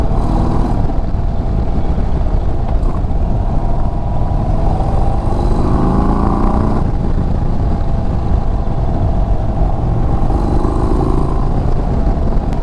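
An Indian Sport Chief cruiser motorcycle on the road, its V-twin engine droning loud and steady throughout with rising and falling pitch as it accelerates and shifts, mixed with wind rush.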